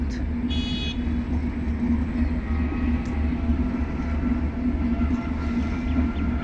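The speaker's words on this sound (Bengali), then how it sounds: "বিশাল বড় ট্রেনটি, যেহেতু কুয়াশার সমস্যা হচ্ছে" A large train moving through fog, a steady low rumble with rail noise held throughout, a brief horn-like tone near the start, loud and continuous with no speech.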